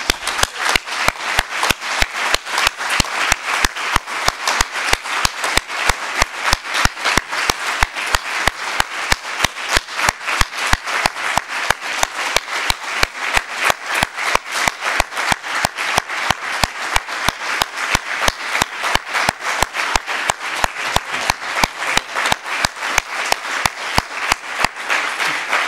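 An audience at a UNESCO panel on open educational resources applauds, with claps beating fast and regular at a steady loud level for about half a minute and no voices on top.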